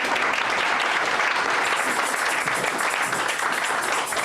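A church congregation applauds in praise, a loud, continuous, dense clapping that holds steady throughout without pause, with a faint murmur of voices mixed in.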